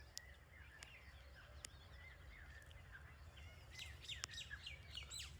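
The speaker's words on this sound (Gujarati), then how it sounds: "તમે પક્ષીઓનો કલરવ, પક્ષીઓનો અવાજ સાંભળી શકો છો" Birds chirp and call in quick repeated bursts under a tamarind tree in the evening, several voices at moderate distance over a faint low background hum, with no voices.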